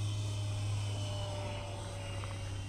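The small electric ducted fan on a Hobby King Hall Cherokee RC glider whines steadily at full throttle, a dense continuous buzz with a strong low hum and no pauses.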